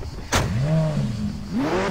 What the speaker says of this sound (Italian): Eccola qui, guardate, questa qui è la nostra auto.